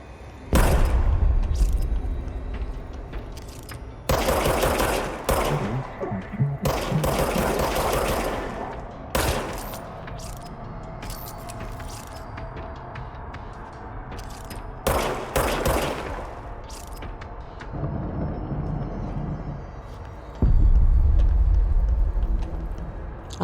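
Bursts of automatic gunfire from a firearm in the Control video game, several rapid volleys separated by quieter gaps, loud and close with no talking.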